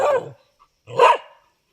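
A pet dog barks at a cobra on a farm plantation, two sharp, close barks separated by a brief pause.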